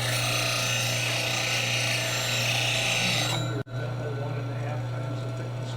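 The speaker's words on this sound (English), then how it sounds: "Grinding skews freehand's very easy." A skew chisel is ground freehand against a bench grinding wheel, giving a steady, close rasping hiss over the motor's hum that cuts off briefly and then resumes.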